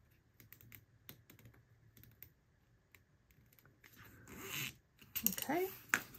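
A zipper is worked by hand while a pull is fitted during a craft build; soft scattered clicks and rubbing give way to a few louder rasping zips near the end, close and fairly quiet.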